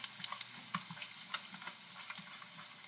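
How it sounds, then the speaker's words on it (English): Cumin seeds sizzle in hot oil while Trini-style khichdi, a split pea and rice dish, is being cooked: a close, steady crackling fizz with scattered sharper pops and light stirring. "I'm going to add the jeera, and you see it sizzles right away."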